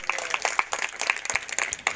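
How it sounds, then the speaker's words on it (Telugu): Congregation at a Christian prayer meeting clapping loudly, a quick run of sharp, uneven claps from several hands, close and bright, continuing steadily for a couple of seconds. "కొట్టు చప్పట్లు గట్టిగా"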